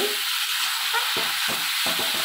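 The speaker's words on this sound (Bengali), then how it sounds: "দেখুন মশলাটা আমার ভাজা হয়ে গেছে।" Spice paste frying in a pan for a prawn and spring onion chorchori, giving a continuous close hiss with a few soft stirring knocks underneath.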